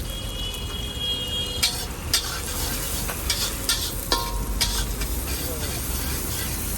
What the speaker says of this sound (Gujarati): તો સૌપ્રથમ આપણે એડ કરી દઈશું ડુંગળી.